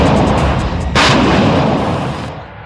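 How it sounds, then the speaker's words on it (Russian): A Tunguska air defense system launches a missile with one loud, sharp blast that rolls into a sustained roaring rush, which tapers off over a couple of seconds; no voices are present. "Стрельбу выполняю ракетами!"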